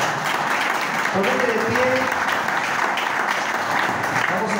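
Church congregation applauding in a dense, continuous wash of clapping that fills the hall, while a preacher speaks briefly over it.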